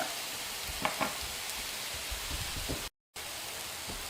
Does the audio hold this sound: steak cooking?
yes